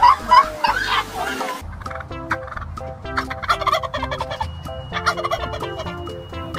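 A chicken on a golf course gives loud, rapid, repeated clucking and squawking calls in a busy burst, with some background noise and no talking.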